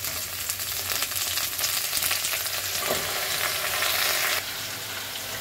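Onion and leafy greens frying in a pan, a dense continuous sizzle with occasional stirring scrapes, steady and close until it drops slightly near the end, no talking.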